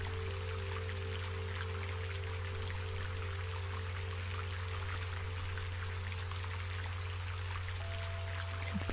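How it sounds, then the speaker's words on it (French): Steady heavy rain pours down in a dense, continuous hiss of drops, with a constant low hum underneath. "Et bientôt, une pluie abondante se déverse du ciel, goutte après goutte."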